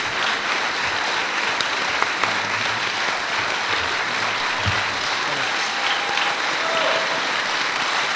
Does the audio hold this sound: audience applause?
yes